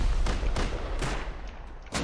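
Hostile turrets in Rust fire rapid bursts of gunfire, loud and close, with repeated sharp shots over a dense rumbling background.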